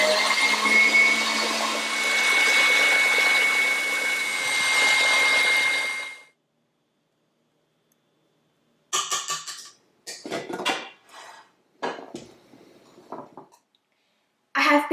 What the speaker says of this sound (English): And just beat that on high speed until it could hold a stiff peak.